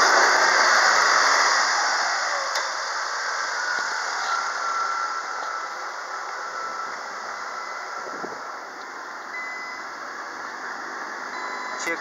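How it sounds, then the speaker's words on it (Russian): A 2-litre Great Wall engine from a 2010 Hover H5 runs at raised revs, giving a steady, even, fairly loud mechanical drone with a bright hiss. It holds constant throughout with no voices. "Работа двигателя на повышенных оборотах."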